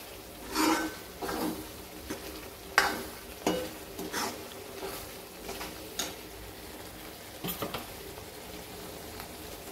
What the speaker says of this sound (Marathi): मीठ टाकल्यानंतर छान मिक्स करून घ्यायचं, हलवून घ्यायची पूर्ण भाजी